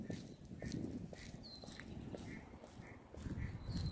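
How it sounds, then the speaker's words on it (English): Ducks quack repeatedly in the background during an outdoor winter walk, faint and scattered over steady footsteps and rustling. "You can hear the ducks in the background there,"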